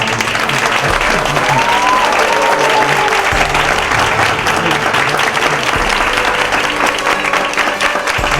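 A large audience at a national youth parliament festival semi-final claps loudly and continuously, a dense steady wash of applause filling the hall, with a faint tonal sound briefly audible underneath.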